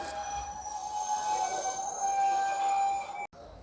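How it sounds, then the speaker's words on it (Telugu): A train pulls away from Manoharabad junction railway station, a steady rumbling roll with a sustained high metallic wheel squeal running throughout, loud and near, before the sound cuts off abruptly near the end. "ఆ ట్రైన్ వెళ్ళిపోతుంది."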